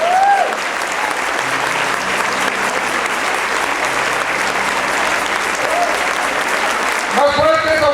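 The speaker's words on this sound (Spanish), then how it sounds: "Fuerte ese aplauso." Sustained, loud audience applause at a Catholic Christ the King retreat, dense steady clapping filling the room for several seconds, with a voice briefly rising over it near the start and end.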